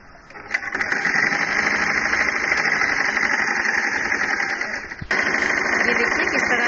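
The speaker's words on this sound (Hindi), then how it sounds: "अब इसको खींचते हुए हम अपनी सिलाई स्टार्ट करेंगे।" A Singer 2250 sewing machine stitches steadily with a picot rolling foot, its close, loud, even mechanical whir running continuously with a brief hitch partway through.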